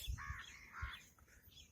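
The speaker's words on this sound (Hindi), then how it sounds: "कौवे छत के ऊपर में" Crows caw from a rooftop: two or three harsh, raspy calls in quick succession near the start, then another after a short pause, fairly close and clear over faint outdoor background.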